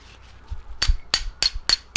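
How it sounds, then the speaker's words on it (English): A punch being hammered to tap a rounded bolt out of a socket: five sharp metallic strikes at an even pace, loud and close, after a brief quiet shuffle. "Then you tap the bolt out with a punch"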